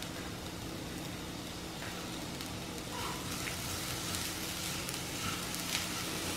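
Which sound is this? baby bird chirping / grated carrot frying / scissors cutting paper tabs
grated carrot frying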